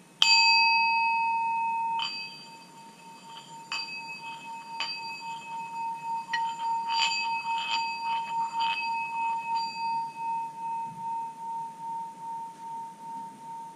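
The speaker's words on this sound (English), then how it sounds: "It's actually from Tibet. It's Tibet singing bowl." Tibetan singing bowl rings with a bright, sustained tone that slowly fades, struck or rubbed again with light taps and small clinks over a long, wavering hum.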